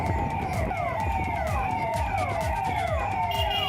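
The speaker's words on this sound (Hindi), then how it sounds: "तो गलियों में यही सायरन और हूटर सुनाई दिए कल मुरादाबाद की" Police sirens and hooters wailing through city streets in Moradabad during patrols after unrest, a continuous, loud rising-and-falling tone with overlapping sweeps and no voices.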